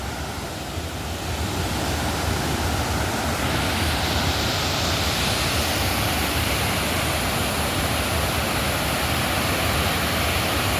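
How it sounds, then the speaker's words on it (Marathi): A monsoon-season waterfall near Dhutpapeshwar temple in Rajapur, Konkan, roars as a dense, constant rush of water that stays loud and unbroken throughout, with no voices. "अतिशय सुंदर असा धबधबा इथून पाहता येतोय"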